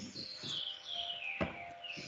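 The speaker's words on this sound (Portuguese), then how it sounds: "E desculpe pelo passarinhos aí" Small pet birds kept indoors chirp in quick, high, twittering bursts throughout, fairly close and moderately loud, with no talking over them.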